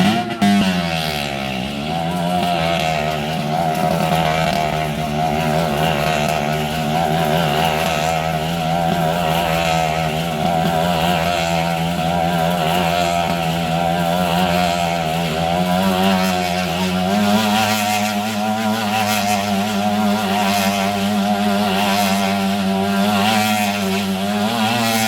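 A motorcycle engine revs continuously inside a circus globe of death, a loud, steady droning whine that rises and falls slightly as the bike circles, with no speech over it.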